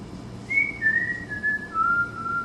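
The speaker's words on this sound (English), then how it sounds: "begins to whistle a tune she knows very well" A woman whistles a tune alone, a series of clear sustained notes gliding slightly downward in pitch, steady over faint room hiss with no talking.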